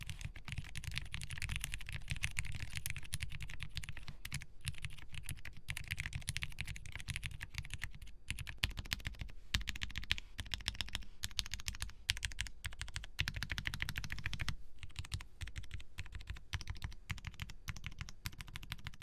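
Continuous fast typing on a mechanical keyboard with Cherry Black switches, an aluminium plate and no PE foam, with dense, close clacks and thocks in an irregular rhythm and no talking.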